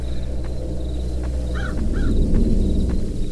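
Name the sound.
crow cawing in the Captain Crunch horror video game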